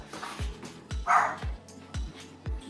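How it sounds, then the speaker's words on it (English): Dogs bark repeatedly at a steady pace, about six sharp barks in under three seconds, moderately close, with no talking. "My dogs are barking."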